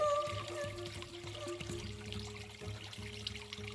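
Water trickling and pouring in a small Oregon brook, a gentle, close burbling flow with soft irregular splashes and a faint steady tonal hum beneath.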